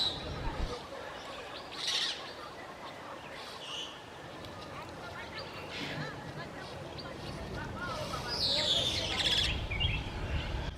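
Wild Senegal parrots perched together in a tree in The Gambia give a few scattered shrill calls and chirps, moderately near, over steady outdoor background noise; a voice talks over parts of it.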